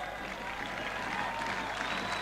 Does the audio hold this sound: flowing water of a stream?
no